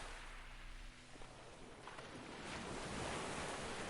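Ocean waves surge and wash continuously beneath a boat, with rushing surf and some wind, swelling louder toward the end; no voices.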